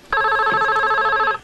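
A telephone rings in an old Turkish film scene, one sustained electronic ring lasting over a second, loud and clear with no talk over it.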